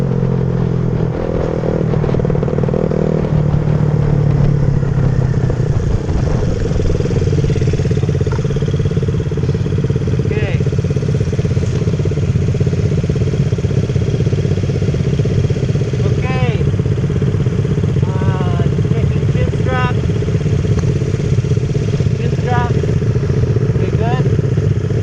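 Motorcycles in a mock race at Willow Springs circuit drone continuously, engines revving and passing at varying distance with whining gear changes; a voice talks over parts of the steady roar.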